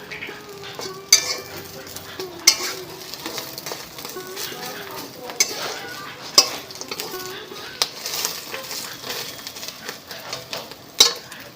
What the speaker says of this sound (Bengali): ডিমটা ভাজি আর এই শাকটা ভেজে নিই তারপরে হয়ে যাবে